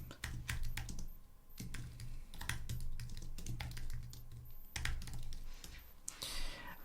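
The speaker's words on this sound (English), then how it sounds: "But this time we are going to type in a title for it." Fingers type a title on a computer keyboard in quick, uneven bursts of close clicks with short pauses between them, over a faint hum and with no talk.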